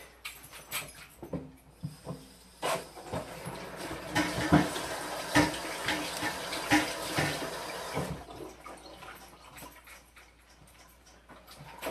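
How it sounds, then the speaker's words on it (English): Hands rinsed under a running kitchen faucet while making veggie burgers, a steady close water stream with splashing and clatter that swells in the middle and then eases off. "Let me rinse off my hands."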